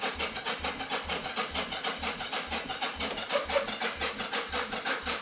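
A 1983 Yamaha XZ550 Vision motorcycle cranks over on a weak battery, the starter churning in a steady, evenly paced rhythm of compression pulses without catching, close and continuous.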